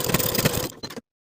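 A sewing machine stitches a fabric tab in place with a 3/8 inch seam allowance, a close, rapid mechanical whir lasting under a second, then a couple of brief clicks before it stops.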